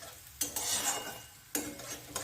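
Garlic and ginger fry in a pan while a spoon stirs them, giving a soft sizzle broken by a few sharp scrapes and clinks of the utensil against the metal.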